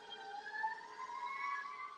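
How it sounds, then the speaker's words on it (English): Ambulance siren passing outside a window, a faint, distant wailing tone sliding steadily in pitch, alone and continuous without talk. "I'm getting a ambulance flying through my window, as everybody can hear"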